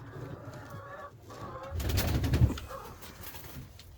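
Chickens in a coop being readied for a snowstorm cluck softly and intermittently, with a louder flurry of bird sounds and movement in the middle of the clip, all fairly close and otherwise quiet.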